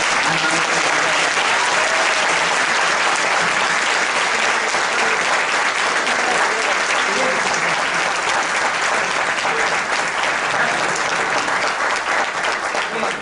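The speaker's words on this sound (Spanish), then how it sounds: "quiero que reciba un fuerte aplauso con ustedes" An audience at a 2013 symposium on organized crime gives a long, loud, steady round of applause that holds its dense crackle the whole way through.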